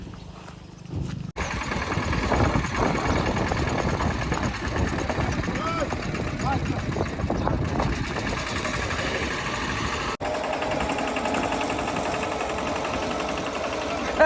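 A tractor engine running on a farm, a steady low chugging rumble that continues throughout, with people talking over it.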